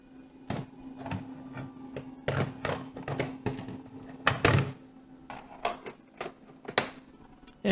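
Clunks, clicks and handling knocks from a TI-99/4A home computer being switched off and an Adventure cartridge pulled and swapped, a string of close, irregular thuds and taps with no talking.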